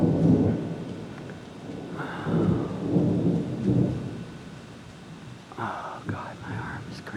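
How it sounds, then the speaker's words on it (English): Rolling thunder rumbles repeatedly around a thunderstorm in Chestertown, with deep swelling peals and light rain, while voices murmur quietly nearby. "That thunder was all around"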